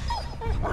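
In the video game Beyond: Two Souls, a dog gives short yips and whimpering whines, close and fairly loud, over a low rumbling game background.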